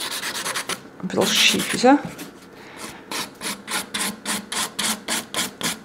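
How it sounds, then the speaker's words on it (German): Rhythmic back-and-forth strokes of a nail file shaping a fingernail into a rounded stiletto point, close and raspy in a steady series after a brief spoken remark. "Ich feile noch so spitz zu wie ein Stiletto."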